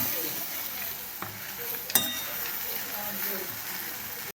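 Goat brain fry being stirred and mixed in a pan, with a steady low sizzle and the occasional clink of a utensil against the metal, one sharper clink near the middle.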